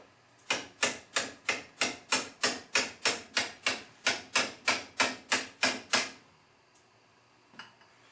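Seventeen evenly spaced sharp ratcheting clicks, loud and close with no talk, sound while a brake line clip is worked loose from a strut on a 2000 Mitsubishi Mirage during a strut service. A couple of faint taps follow.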